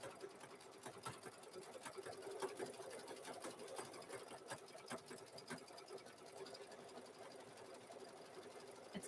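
A sewing machine stitches lettered appliqué onto a sweatshirt, a quiet, steady mechanical whir with fine rapid needle ticking that runs continuously at low volume without speech.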